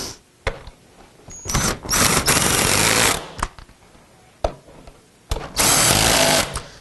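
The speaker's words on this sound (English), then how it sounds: "go ahead and take your socket or your impact" An impact wrench drives bolts back in on a Ford F150 seat install, firing in several loud, close bursts of rapid hammering whir, separated by short pauses and clicks.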